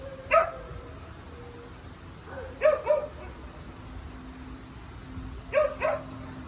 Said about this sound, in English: Sorry about this dog, it's annoying